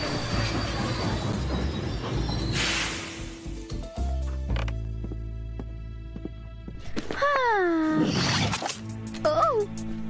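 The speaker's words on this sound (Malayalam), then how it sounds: "ഈ ട്രെയിനിൽ എന്തുകൊണ്ട് ഒരു റൈഡ് പോയിക്കൂടാ നമുക്ക്?" A cartoon train rumbles along with rolling clatter and sharp metallic wheel squeals, and brief vocal-like tones rise over the track noise toward the end.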